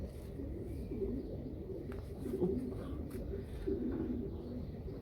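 A small racing pigeon hen coos softly in repeated low throaty phrases, close by and fairly quiet, over a faint steady background hum.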